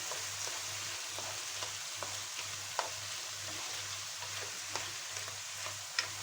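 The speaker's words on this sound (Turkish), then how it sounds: "Şöyle karıştırıyorum." Beef goulash with tomatoes sizzles steadily in a hot pan while a utensil stirs and scrapes in a regular rhythm, with occasional sharper clinks against the pan.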